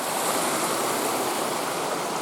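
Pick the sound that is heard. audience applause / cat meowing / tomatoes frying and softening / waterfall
waterfall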